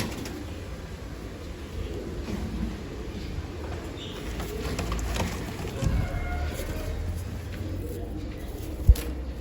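Pigeons in a loft coo softly and intermittently beneath a steady low background rumble, fairly faint and without nearby talk.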